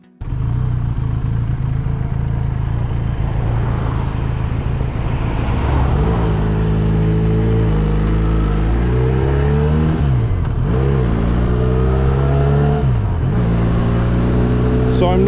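A Benelli Leoncino 500 motorcycle rides along a road, its engine loud and steady throughout, with revs rising and dipping through gear changes and a few brief throttle lifts near the end.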